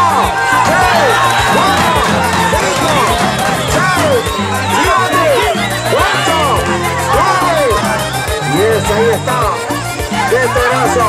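A large crowd cheers loudly at the Primera Copa Rancho Tennessee event in Los Pozos, Herrera, with whoops, high excited shouts and overlapping voices. The roar stays constant for several seconds, with rising and falling yells and some shrill children's cries.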